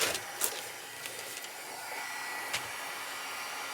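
A hair dryer blows with a steady airy whoosh over a painted canvas, close and even throughout, with a few soft knocks mixed in.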